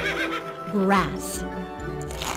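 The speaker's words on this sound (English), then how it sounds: "A donkey." A donkey brays once, a short rising-and-falling call over steady music in a children's animal-sounds lesson.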